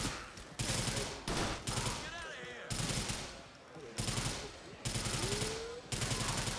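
Gunfire in the video game Grand Theft Auto: The Lost and Damned, loud bursts of rapid shots in several separate volleys with short gaps between them.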